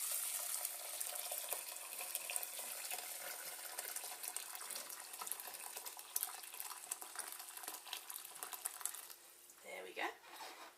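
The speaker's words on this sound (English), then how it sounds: "I have boiled some hot water and I'm just going to pour that in with the rice now" Freshly boiled hot water poured into a pan of long grain rice, a continuous close splashing, hissing pour that runs for several seconds before tapering off with a few small sloshes at the end.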